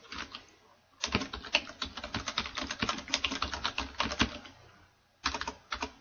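Someone types a folder name on a computer keyboard. Rapid, close keystroke clatter runs for several seconds, stops briefly, then resumes with a short final burst.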